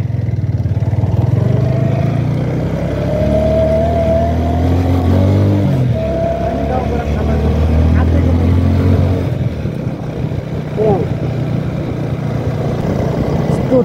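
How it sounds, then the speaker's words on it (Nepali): A motorcycle shifted into neutral and started, its engine then idling and running steadily at close range with a low rumble and clattery tone, some speech around it. "यो बाइकको चाहिँ न्युट्रलमा ल्याएर बल्ल स्टार्ट गर्नुपर्छ नि"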